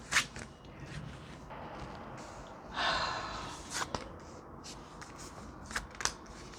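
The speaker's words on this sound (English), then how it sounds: "I'm gonna shuffle off camera" Tarot cards being shuffled in short riffling bursts with soft rustles and quiet breaths in between, close by in a quiet room.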